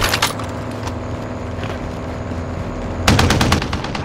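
Automatic gunfire in Call of Duty Warzone's Payload mode on Xbox Series X: a loud burst at the start, a lull of steady battle noise, then a dense rapid volley near the end, with no voices.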